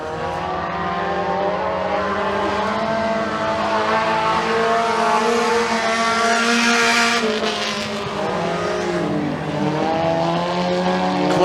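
Race cars lap the McKean County Raceway dirt oval, a dense, loud roar of several engines revving and droning together, with pitch shifts as cars pass close by.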